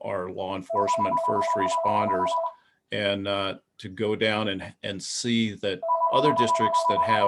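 A landline-style telephone rings in a repeating electronic double-tone pattern, recurring twice under a man's continuous speech during an indoor legislative discussion.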